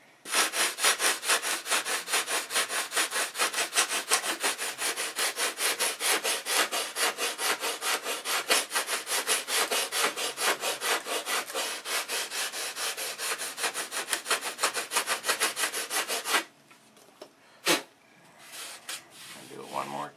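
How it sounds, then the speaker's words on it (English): Sandpaper scrubs a wooden model airplane wing tip with quick, even back-and-forth strokes, loud and close, for about sixteen seconds before stopping, followed by a few scattered scrapes. "I'm going to take a little CA, wick it in that small crack, and sand right over it"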